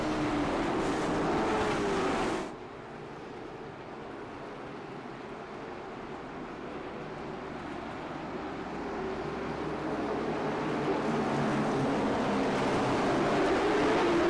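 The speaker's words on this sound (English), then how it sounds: "Gary Eschen with his finger on the button hits the loud pedal and we're back underway" Race cars in the iRacing sim racing game accelerating on a restart, a steady engine drone that drops abruptly, then builds gradually louder as the field picks up speed.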